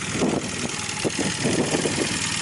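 A Honda CB400 motorcycle engine, freshly refilled with oil, idles steadily nearby with a continuous, even mechanical drone and faint pulsing, and no voices over it.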